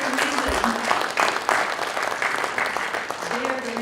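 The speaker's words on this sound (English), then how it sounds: "So please give them a round of applause." Audience applause for a media employers panel at a drone symposium, a steady wash of clapping throughout with a voice speaking over it near the start and end.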